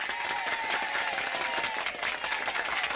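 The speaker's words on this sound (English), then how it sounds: "I could use a little applause this morning." Steady applause from a group fills the whole span, dense continuous clapping at an even level with no pause.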